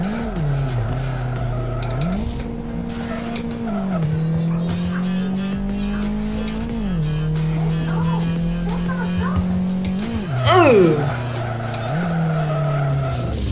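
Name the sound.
car drifting with tire squeal in Live for Speed video game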